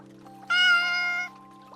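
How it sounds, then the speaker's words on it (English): One clear, close meow from a cat, a single drawn-out tonal cry of under a second over a quiet steady hum, with a soft trickle of rain in the background. "A cat?"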